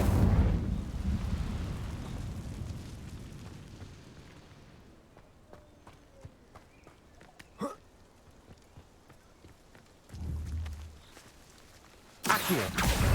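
In Hogwarts Legacy, repeated Incendio fire spells go off as deep roaring bursts: a long fiery rush that fades over several seconds, followed later by a shorter rumble and a final sharp blast.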